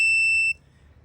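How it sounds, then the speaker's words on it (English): A steady electronic continuity beep from a multimeter, its probes across a ground and a connector pin on a 2008-2014 Mercedes C-Class with the key in the crank position; one clear tone lasting about half a second, then silence. "that we get a continuity beeping sound like this one"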